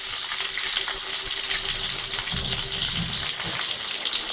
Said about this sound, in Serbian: Lepo se prži.